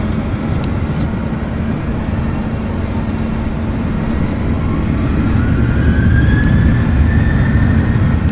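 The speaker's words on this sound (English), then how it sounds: "Yeah, JAL Dreamliner." A JAL Boeing Dreamliner jet at Vancouver airport, a steady broad roar with a rising whine that grows louder toward the end, heard alone without talk.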